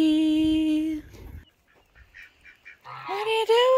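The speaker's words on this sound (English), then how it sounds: "Here is my OG hen, Betty." A backyard homestead hen calls out in loud, close honking squawks, first one long call and then a rising cackle after a quieter pause.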